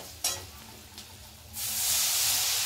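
A little water goes into a hot pan of fried garlic and chili with turmeric for taro leaf curry: a couple of clinks, then a sudden loud hiss that keeps rising and stays strong.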